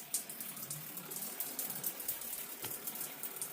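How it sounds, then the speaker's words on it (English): A rechargeable travel bidet sprays a steady, hissing jet of water onto tiles, a continuous close spatter with no voices. "It's got good spray. I mean, it's spraying way over there."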